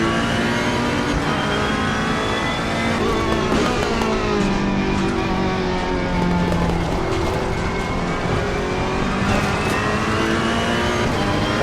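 Race car engine in the Assetto Corsa Competizione racing game, loud and continuous throughout, with sustained high revving and shifting engine harmonics as the car drives at speed, no talking.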